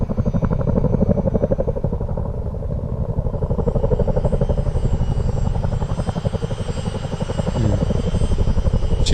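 A Chinook helicopter in Microsoft Flight Simulator gives a loud, steady, rapid thudding rotor beat with a dense engine rumble underneath, holding close and continuous throughout.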